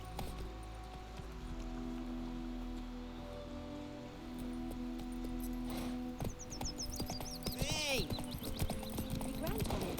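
Horse hooves clip-clopping in The Witcher 3 as the rider dismounts, soft steady footfalls with rustling and crickets around, a brief whinny toward the end, quiet in the game world.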